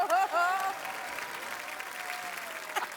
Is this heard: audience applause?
yes